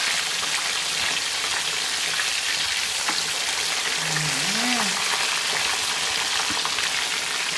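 Tilapia fries in a pan until golden brown, giving a steady, close sizzle and crackle throughout, with a faint background tone partway through.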